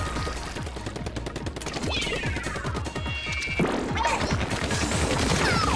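Rapid gunfire in a shooter video game, with dense bursts of shots and crashing impacts firing continuously across the stretch, loud and close with busy game effects layered underneath.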